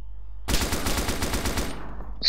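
Rapid automatic gunfire from soldiers in ARMA 2: Operation Arrowhead, a sustained burst of close, loud shots lasting under two seconds before cutting off.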